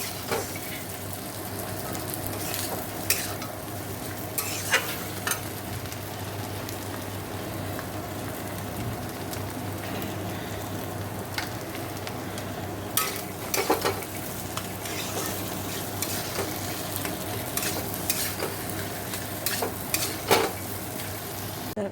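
Potato and onions frying in a pan while being stirred, a steady soft sizzle with repeated scraping and clinking strokes of the spoon scattered throughout, close and moderately quiet, with no talk.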